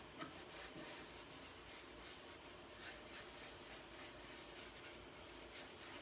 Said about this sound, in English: You just got to keep rubbing around in little circles.